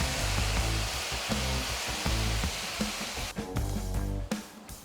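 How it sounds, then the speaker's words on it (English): Vinegar poured into a pan of cooking spices sets off a loud, close, steady sizzle and hiss that gradually calms, with a few bubbling pops toward the end. "you can add the vinegar."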